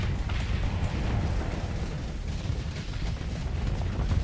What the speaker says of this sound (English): The Star Fortress is just throwing down explosions.